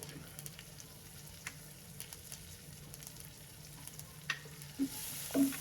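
Upma with capsicum frying in a pan: a soft, steady sizzle with occasional spoon scrapes and a few louder clanks near the end, close and fairly quiet.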